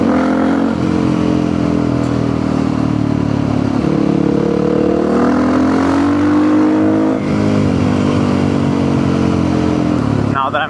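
A supermoto motorcycle rides on a sunny day, its engine loud and close with continuous buzzing drone, rising and falling as it revs and shifts, with wind rush over it throughout.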